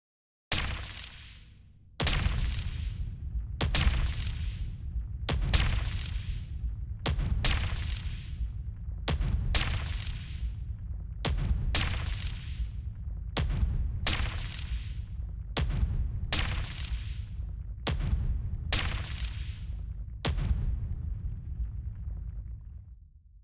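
Incoming weapons fire in a Star Trek space game: a steady run of about a dozen heavy booming blasts, roughly one every second and a half, loud and close, each with a bright crack and a rumbling low tail, with no talking.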